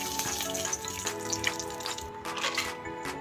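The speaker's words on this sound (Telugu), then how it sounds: "ఘీ వేడి అయిందండి. దాంట్లో గరం మసాలా మొత్తం వేస్తుంది" Whole garam masala spices frying in hot ghee, a bright continuous crackle and sizzle with small pops and faint metallic clinks throughout, close and moderately loud.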